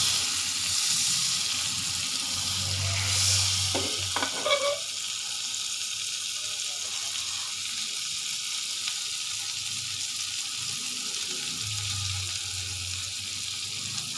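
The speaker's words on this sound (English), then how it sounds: "First we'll put a little butter. With that I'll just put in a little bit oil, because the butter tends to kind of burn." Butter and a little oil heat and fry in a pan for a paneer butter masala, giving a soft continuous sizzle with occasional clinks and brief bursts of louder frying, faint overall and without speech.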